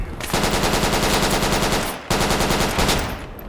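Sustained automatic gunfire in the tactical shooter Project Reality, two long rapid bursts separated by a brief break, loud and close, with no voices over it.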